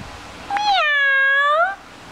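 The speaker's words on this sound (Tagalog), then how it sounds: "Where's the cat? Say meow." A pet cat gives one long, drawn-out meow, close and clear, rising and then falling in pitch, with quiet room sound before and after.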